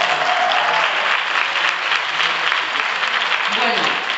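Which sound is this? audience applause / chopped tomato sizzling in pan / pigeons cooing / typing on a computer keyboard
audience applause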